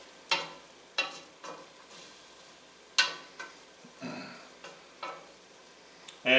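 Onions sizzle in a pot as the base for lobster bisque, with repeated sharp scraping stirs over a soft frying hiss, close and alone.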